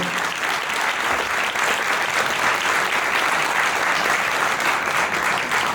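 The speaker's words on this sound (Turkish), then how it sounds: "ben bir alkışla bizim ortak meyvemiz biliyorsunuz Tunacan. Pınar Tuna için rica edeceğim sizden" A concert audience applauds at a first concert, a dense, steady wash of clapping hands that stays loud and even throughout without a break.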